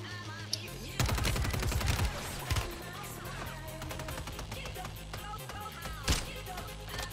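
Video game gunshots crack in rapid clusters, with loud bursts near the start and scattered shots after, close and punchy over constant game noise.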